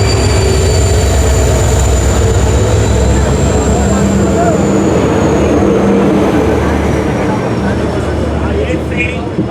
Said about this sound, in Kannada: ನಮ್ದೇನಾ ಟ್ರೈನ್ ಇದು?